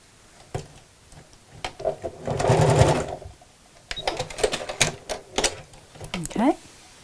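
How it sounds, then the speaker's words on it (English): A sewing machine stitches elastic across a bag pocket in short, loud mechanical bursts, separated by pauses filled with soft clicks and fabric handling. "So just sew your elastic in place just across here."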